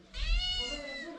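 One close, drawn-out cat meow, steady and tonal for about a second, heard in a home kitchen.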